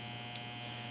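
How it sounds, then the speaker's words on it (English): A household clothes dryer runs with a steady electrical hum and buzz, a constant low drone held at even level throughout with one brief faint click near the start. "There's the dryer."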